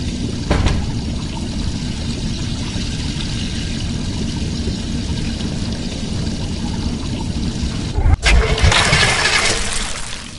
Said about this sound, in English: Please start engine manually.